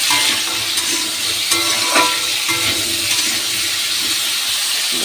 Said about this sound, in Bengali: হলুদ দেবো দিয়ে আমি এখন ভাজা ভাজা করবো।